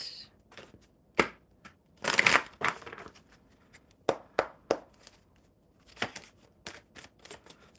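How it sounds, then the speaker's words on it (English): Tarot cards are shuffled in short, crisp riffling bursts separated by pauses, close and fairly quiet, with light handling taps between shuffles. "One more good shuffle."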